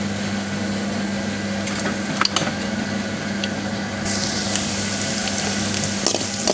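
Mustard seeds spluttering in hot oil in a home kitchen, a steady sizzle with scattered crackles and pops that grow brighter in the later seconds, over a low constant hum, with no voices.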